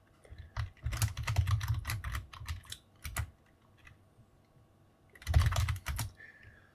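Keys clatter on a Commodore 8-bit computer keyboard as a memory write command is entered: quick bursts of close, crisp taps, a pause in the middle, then a final flurry of strokes, with no voices.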